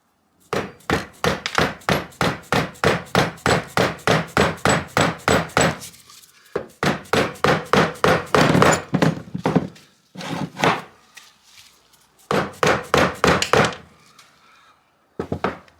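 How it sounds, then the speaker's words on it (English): A dead blow hammer drives a bearing into a 2012 Kawasaki KX250F engine case with a long run of rapid, evenly spaced loud thuds, then a pause and several shorter bursts of blows, close and with no speech. "I'll give this a little love with a dead blow and see if it'll go in for me"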